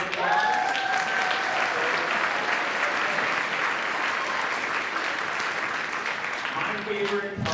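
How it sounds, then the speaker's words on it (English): Sustained applause from a large audience at a 7th grade band concert fills the whole stretch, steady and dense, with a few brief tonal notes faintly audible at the start. "round of applause"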